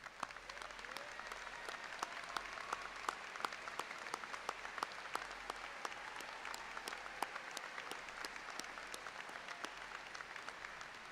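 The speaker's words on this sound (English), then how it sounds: "please give them a round of applause" A graduation audience applauds in a steady, sustained round of clapping heard from a distance, fairly quiet but continuous for several seconds with individual claps standing out.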